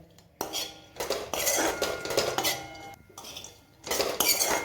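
Metal spoon scraping and clinking against a pan in repeated bursts, close up, with short pauses between strokes.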